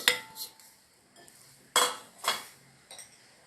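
Soaked sabudana being mixed into mashed potatoes in a bowl, with a handful of scattered clinks and scrapes of a spoon against the bowl, close and moderately loud, separated by quiet pauses, no voices.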